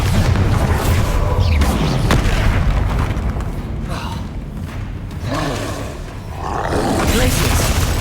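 Spell blasts from Confringo and Bombarda in Hogwarts Legacy, a dense continuous roar of booming impacts and whooshes layered over busy game sound and voices, loud throughout with a slight dip midway.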